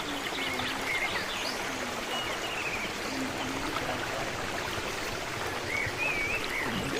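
A stream runs across barren, dry land, its water babbling steadily and continuously throughout, with birdsong chirping faintly over the flow and no talking.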